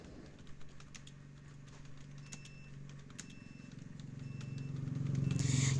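Typing on a computer keyboard while entering text in PowerPoint, a run of light, close key clicks at an uneven pace over a low hum that grows louder toward the end.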